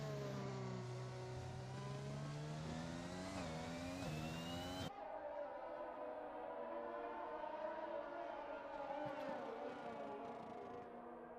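Formula 2 race car engine in a PC racing game at Bahrain, a loud whining drone that climbs through gears in rising sweeps, cuts off abruptly, then continues as a steadier, more distant engine tone.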